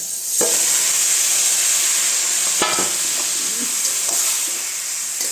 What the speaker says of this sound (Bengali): এই কড়াইতে দিয়ে দেবো এবারে মাংসটা